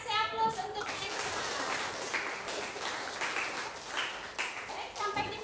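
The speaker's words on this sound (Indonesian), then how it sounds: "Kasih aplaus untuk Nexa" Young schoolchildren in a classroom clap together in a steady burst of applause lasting several seconds, fairly close and dense, with children's voices mixed in beneath the clapping.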